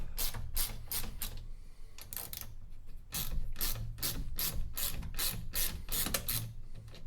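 A ratchet with a 5/32 socket undoes small stems on a John Deere 1025R compact tractor, bursts of close, rapid clicking strokes repeating in quick runs with brief pauses between them.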